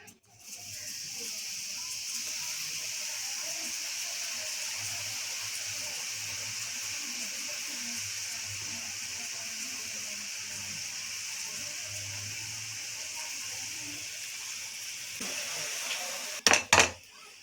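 Gram flour batter dropped into hot oil for boondi, a steady bubbling sizzle of frying that holds for most of the clip, close and even, ending with a few sharp clatters of a utensil.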